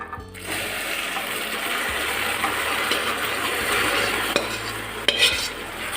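Milk is stirred into sugar in a pan while making a coconut and ghee sweet, a steady wet swishing with faint sizzling that runs throughout, with a couple of sharper clinks near the end.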